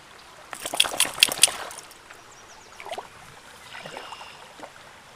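Sadie the dog splashing through water outdoors, a burst of brisk sloshing and dribbling splashes early on, then quieter intermittent trickles and a few softer splashes at moderate distance, with no talk.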